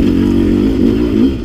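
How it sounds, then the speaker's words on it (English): A 300cc dirt motorcycle revs hard in second gear while climbing a single-track hill, its engine giving a steady, loud, close throbbing drone that holds for the whole stretch with a slight swell near the end. "when I twist the throttle in second gear on this one, something happens, and it's that it pulls me through"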